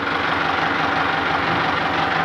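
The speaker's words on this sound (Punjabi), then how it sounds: "ਹੁਣ ਇਹਨੂੰ ਅੰਦਰ ਲਾ ਦਈਏ ਬਲਾ ਟਰੈਕਟਰ ਨੂੰ" A tractor engine idling, a loud, steady, close rumble that holds constant throughout with no talking.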